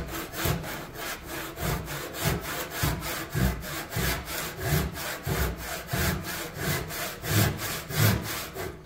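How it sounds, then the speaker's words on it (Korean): A hand saw recuts wood along a pencil line after the kerf has wandered, producing close, steady back-and-forth rasping strokes at an even rhythm of roughly two per second, with no talking. "여기서부터 톱질을 다시 해주는 거예요."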